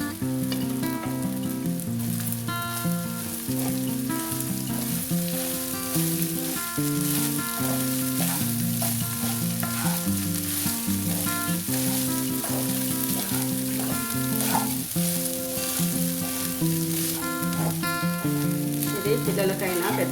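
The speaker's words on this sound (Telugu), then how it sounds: "దీంట్లో వేసుకొని మిక్స్ చేసుకోవాలి." Cooked rice stirred into carrots frying in a pan, giving a constant sizzle beneath music that plays throughout.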